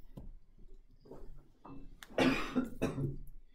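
Coughing in a classroom, with a few small coughs followed by a louder burst of two or three harsh coughs near the end, fairly close in a quiet room.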